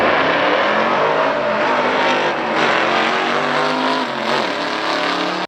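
A 1963 Studebaker Super Lark R2 roars hard under acceleration at a factory stock drag race, a loud close engine note rising and holding before cutting off abruptly at the end.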